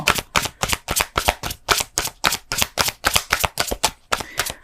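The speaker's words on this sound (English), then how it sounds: "One more shuffle." Tarot cards are shuffled in a quick, regular rhythm, about twenty crisp riffling snaps in a row, close up with no talking.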